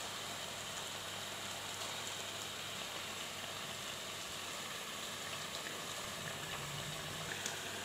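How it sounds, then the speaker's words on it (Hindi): Desi ghee goes into a pot of dried mutton being cooked for korma, where it crackles and sizzles as a steady, dense hiss that continues evenly throughout with no talk. "अब हम इसमें ऐड करेंगे आधा पाव देसी घी"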